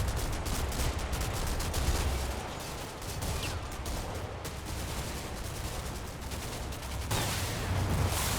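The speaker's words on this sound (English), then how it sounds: "That was a German anti-tank round." A German anti-tank round fires in a World War II shooter battle at Grosshau, lost amid a dense, continuous wash of gunfire and explosions, with a sharper burst standing out late.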